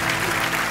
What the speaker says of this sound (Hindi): मैं सोनी टीवी से रिक्वेस्ट करता हूँ कि यहाँ पे जो यूलिया के लिए तालियां बजाई जाए